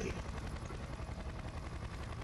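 A helicopter in the video game Splinter Cell Conviction, its rotor chopping in a fast steady pulse mixed with gunfire-like bursts, loud and close.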